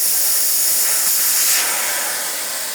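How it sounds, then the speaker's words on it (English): Air hisses loudly and steadily out of a street bike tire as it deflates, a close, bright rush that swells slightly midway and then begins to fade. "I think next thing to do is deflate the tire."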